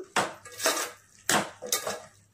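Tomato egg curry being stirred in a pan, with four distinct close scraping strokes of a metal spoon against the pan in a slow, even rhythm.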